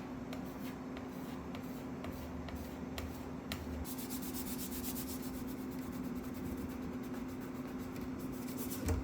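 A putty knife scrapes and smears wood patch filler across a door, giving a soft, close rubbing and scraping with a few light taps early on, fairly quiet over a steady background hum.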